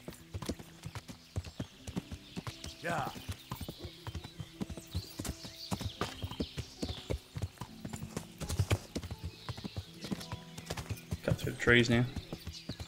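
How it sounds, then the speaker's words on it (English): Horse hooves clip-clop steadily at a brisk trot in the medieval game Kingdom Come: Deliverance, close and clear, with a neigh near the end and someone talking quietly over it. "Run you over with the horse."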